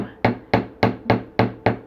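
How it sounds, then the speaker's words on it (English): A ball peen hammer taps bare wire in six evenly spaced, sharp metallic strikes about a quarter second apart, close and loud, each with a brief ringing decay, while shaping wirework. "With the ball peen hammer, we're just going to gently bounce the hammer on the surface"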